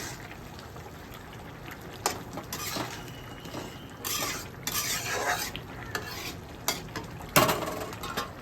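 Bitter gourd frying in a pan while it is stirred: continuous scraping and rustling over a bright sizzle, with a few louder scrapes near the end.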